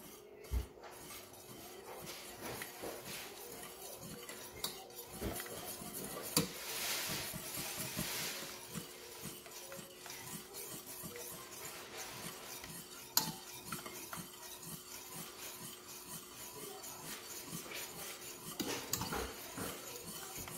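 Cheese being stirred into a minced meat taco filling in a pan with the heat switched off, soft scraping and clicking of a utensil against the pan with faint sizzling, quiet and close.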